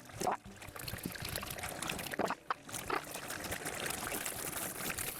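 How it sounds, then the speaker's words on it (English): Water runs and splashes steadily as a paintbrush is rinsed clean of soap and paint, a continuous trickling pour with a few louder gushes near the start. "Rinse it all out till the water runs clear."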